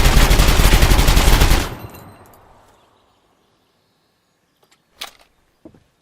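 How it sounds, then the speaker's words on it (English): A rifle in the video game Gunsmith Simulator empties its magazine at the range in one loud, rapid burst that cuts off into a fading tail, followed by a few faint, sparse clicks and taps. "would it really be a trip to the range if we didn't just do a mag dump?"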